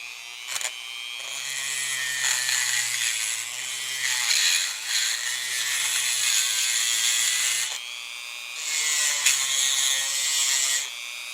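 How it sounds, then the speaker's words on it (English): A Dremel rotary tool with a grinding bit whines loudly against brass speaker jack terminals on a tube amplifier, a high buzzing tone that wavers in pitch as it bears down, easing briefly before resuming. "So I get a Dremel tool with a bit like that, and I come in here and do this deal."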